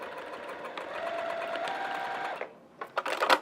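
A sewing machine top stitches a seam on a small fabric dog poo pouch, running in a steady close whirr for over two seconds before stopping, followed by a few soft clicks and fabric rustles.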